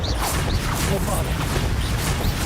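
A Bombarda explosion spell going off in the video game Hogwarts Legacy: loud, dense crashing and blasting noise that fills the whole moment with no pause.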